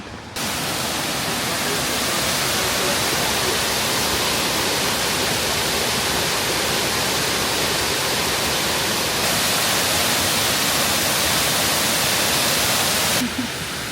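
A waterfall in Cuyahoga Valley, Ohio, roars steadily and loudly, a dense, unbroken rush of falling water with no other sounds standing out.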